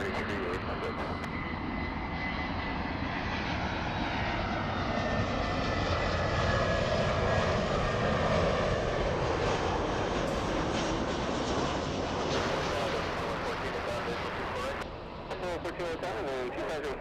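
A Southwest airliner rolls for takeoff on runway 24 left at LAX, its engines a broad, steady jet roar that holds loud and continuous throughout, with radio voices talking over it.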